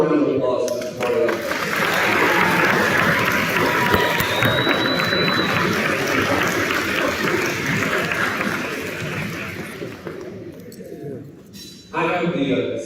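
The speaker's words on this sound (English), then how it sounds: "Let's give one more round of applause for this party." An audience at a school Veteran's Day program applauds for about eleven seconds, a sustained, fairly loud wash of clapping with some crowd noise and a faint high whistle or tone partway through, fading near the end before a voice resumes.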